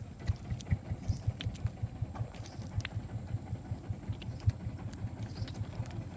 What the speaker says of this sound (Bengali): আজ আমাদের নেওয়ার জন্য আমাদের ট্রলার চলে আসছে